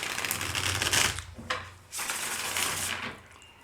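A deck of playing cards being shuffled, giving a dense papery riffling burst, a brief pause, then a second longer riffle, close up and fairly quiet with no talk over it.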